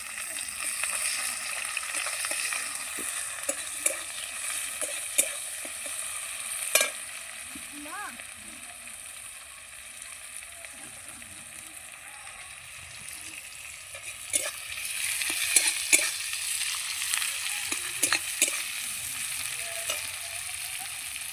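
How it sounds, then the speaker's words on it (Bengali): Onions frying in hot oil in a home kitchen for a spicy tela piya fish curry, with a steady bright sizzle and occasional crackles and stirring clatter throughout. "পেঁয়াজটা দিয়ে দেবো, তেল গরম হয়ে গেছে।"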